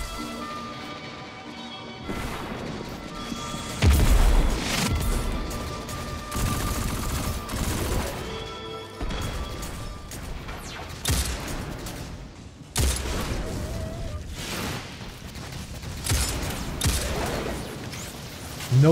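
Grenade explosion and gunfire in the co-op shooter Destiny 2 on PC: heavy crashing blasts and bursts of rapid shots over game music, loud and near, repeating throughout, with no talking.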